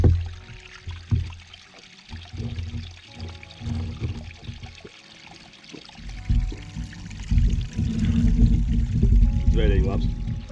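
Spring water flows and trickles from one of the Staburags springs by the Daugava, a steady pouring stream that grows louder and fuller toward the end while a person talks over it.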